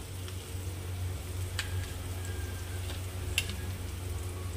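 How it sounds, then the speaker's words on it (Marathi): Chopped vegetables fry quietly in a pan while rava appe is being prepared. A soft, steady sizzle runs throughout, with a few faint ticks and clicks over a low hum. "पण मी आज असं बनवत आहे, थोडं फ्राय करून"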